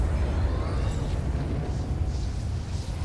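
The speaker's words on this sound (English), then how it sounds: "Oh, it just exploded again." In a Fortnite volcano event, a giant egg erupts with a sustained, roaring rumble of explosion noise that stays loud and steady throughout, without talk over it.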